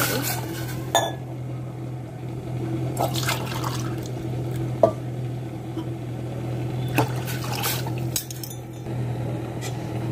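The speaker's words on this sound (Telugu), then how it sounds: "6 గ్లాసులు వాటర్ వేసుకోవాలి." Water, six glasses, runs steadily into a cooking pot of rice and lentils for pongal under a low hum, with occasional clinks of metal and glass.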